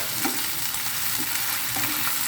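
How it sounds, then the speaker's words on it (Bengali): Ginger and garlic paste frying in a pan and being stirred, a steady close sizzle with soft scraping strokes of the spoon repeating through it. "দিয়ে এটাকে আমি হালকা একটু নেড়ে ছেড়ে নিব কাঁচা যে একটা গন্ধ আছে সেটা চলে যাবে"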